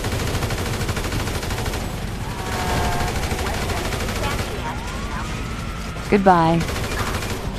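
Rapid gunfire rattles through GTA V with flaming bullets, dense crackling bursts over engine hum and game noise, while a voice speaks briefly and a sharp louder burst hits near the end.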